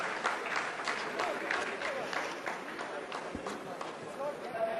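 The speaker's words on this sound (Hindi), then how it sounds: "आप इस तालियों के गड़गड़ाहट को सुन सकते हैं" Scientists applauding in a mission control room during the Chandrayaan-3 moon landing, a dense patter of clapping that keeps going at a steady moderate level, with voices in the room beneath it.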